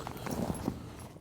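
Hooves of pickup horses clip-clop at a walk behind the scenes at the Denver Western Stock Show, a few soft, close steps over a steady low background.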